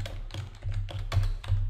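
Rapid typing on a computer keyboard while entering code for Microsoft Dynamics NAV 2013 R2 OData web services, with several quick bursts of close, crisp key taps and no talking.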